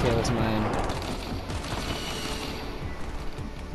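Rapid bursts of gunfire in the Fortnite video game, dense and loud, with mechanical clicking under players' voices.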